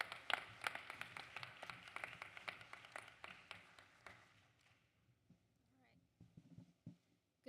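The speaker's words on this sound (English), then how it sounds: "Good timing on your claps." An audience at a fall university convocation claps, a dense patter of many hands that thins out after about five seconds, leaving scattered single claps and taps.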